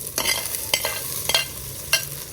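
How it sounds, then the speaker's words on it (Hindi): Tomatoes stirred into onions frying in a pan for a chicken and capsicum curry, giving soft sizzling with a few sharp scraping stirs, close and fairly quiet. "अब हम इसमें ऐड करेंगे टमाटर।"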